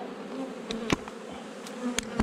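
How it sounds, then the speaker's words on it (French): Honeybees buzzing as frames are shaken in front of a hive while colonies are merged for winter, a dense steady hum with a few sharp knocks and taps, fairly close. "On va secouer ça devant la ruche."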